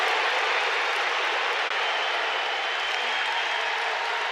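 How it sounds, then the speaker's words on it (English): A packed arena crowd roars continuously at a Nebraska Husker college wrestling match as a home wrestler wins in overtime, producing a loud, dense, unbroken wall of cheering and applause. "this crowd went nuts"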